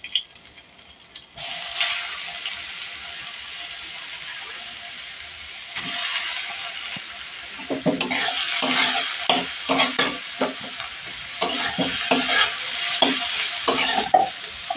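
Cut potatoes dropped into a pan of cumin seeds and green chillies frying in oil, a faint hiss that swells into loud close sizzling, then rhythmic scraping and rattling stirs, with no voices.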